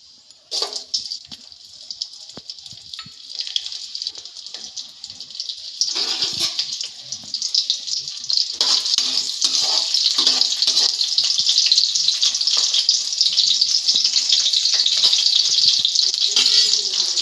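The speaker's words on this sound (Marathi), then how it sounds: "तेल थोडं तापलं की आपण त्याच्यात मिरची टाकणार आहोत।" Chillies frying in hot oil in a pan for a Konkan-style red amaranth dish, starting with a few spits and building into a loud, continuous sizzle, no talking.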